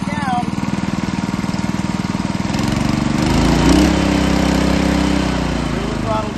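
A gasoline trash pump engine runs loud and close, a steady rapid putter that rises slightly in pitch partway through, with a voice talking over it.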